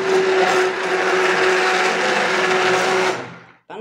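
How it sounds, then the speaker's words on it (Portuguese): A powerful hand mixer whirs steadily while blending coconut oil cold process soap, a loud continuous buzzing drone for about three seconds that cuts off abruptly. "Esse meu mix, ele é bem potente."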